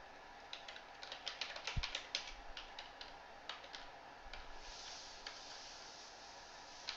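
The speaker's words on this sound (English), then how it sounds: "Wait, I'll type here." Fingers tap out a quick run of faint keyboard clicks, fairly close, then slow to a few scattered keystrokes against a quiet room hiss.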